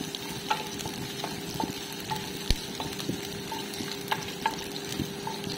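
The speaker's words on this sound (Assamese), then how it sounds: "মানে এফাল পিঁয়াজহে মই ফ্ৰাই কৰি লৈছোঁ" Sliced onions fry in a wok, a steady close sizzle with soft crackling and periodic scrapes and taps of a spatula stirring them.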